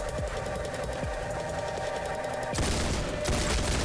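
Shotgun blasts in the video game House of God, heard as repeated booming shots over a constant loud mechanical rattle, with a heavier burst near the end.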